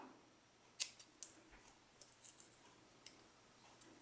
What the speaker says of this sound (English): Snip it up the middle, snip from corner to corner.